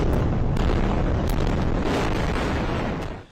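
Rocket strikes pounding Gaza during war, heard as a continuous deep roaring rumble of explosions with a few sharper bursts, loud and sustained before fading at the end.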